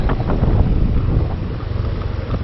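Steady wind buffeting a microphone on a Yamaha NMAX motorcycle ride through a cold, windy area of Pangasinan, a constant low rumble and roar with gusty surges throughout, no voices.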